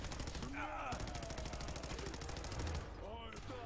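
A gun in Fallout 4 fires in a rapid, steady stream of shots across the whole stretch, with a voice talking over the gunfire.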